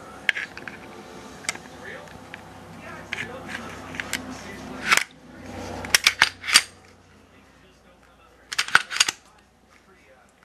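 A Glock 30 .45 ACP pistol being reassembled, its slide slid onto the frame: soft handling rubs followed by a series of sharp metallic clicks and snaps up close, with someone talking over parts of it.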